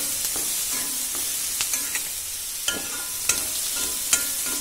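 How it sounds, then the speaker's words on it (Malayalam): Onion sautés in oil for a coconut beef fry, a steady sizzling hiss broken by a string of light spoon clicks and scrapes against the pan, close and moderately loud. "അപ്പോൾ നമ്മുടെ സബോള വഴണ്ട് തുടങ്ങിയിട്ടുണ്ട്"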